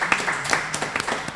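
Audience clapping on a talk show, a short burst of a few scattered, fairly close claps.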